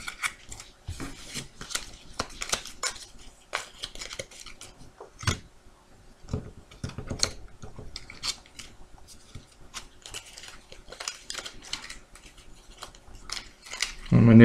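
Game cards being shuffled by hand at a table: a long run of quick, close, papery flicks and riffles in irregular bursts, ending in a louder rustle.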